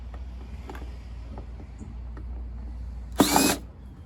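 A power drill gives one short, loud burst while backing out a cover screw on a backpack leaf blower, following a quiet stretch of faint handling clicks and background hum.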